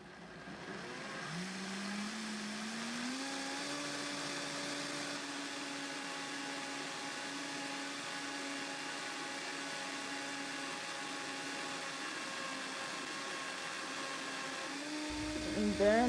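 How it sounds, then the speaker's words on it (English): A kitchen blender purées peeled beans with onions and bell pepper for koose, a steady, close motor whine that rises in pitch as it starts, holds evenly, and then shifts near the end. "I'll now blend it together with the onions and the bell pepper."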